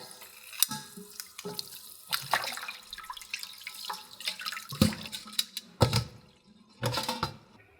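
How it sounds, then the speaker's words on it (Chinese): Beef brisket rinsed under warm running water in a kitchen sink, with irregular splashing bursts as the meat is moved and turned beneath the tap, close and moderately loud. "就可以移到水槽，用温水清洗干净备用。"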